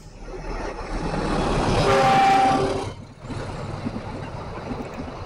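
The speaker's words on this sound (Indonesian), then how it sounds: "Lewat di depan kita menggunakan lokomotif CC206." A heavy Argo Wilis passenger train hauled by a CC206 diesel locomotive rumbles past close by over a long bridge on the Bengawan Solo River, swelling to a loud roar with a sustained horn-like tone, then dropping to a steady rolling clatter.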